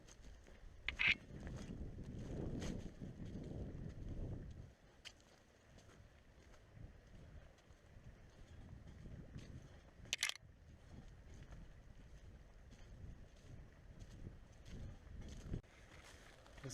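Wind blowing over an exposed windy point outdoors, gusty low rumbling buffets that come and go, louder in the first few seconds and then fainter, with a couple of sharp clicks.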